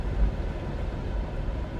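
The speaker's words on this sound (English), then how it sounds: "That's the air conditioner." Air conditioner running in the background, a steady low broadband hum and whoosh with no distinct events, moderately loud and unbroken.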